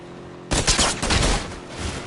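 Loud burst of gunfire in the video game PUBG erupts after a quiet half second, continuing as a dense, rapid fusillade of overlapping shots until the end.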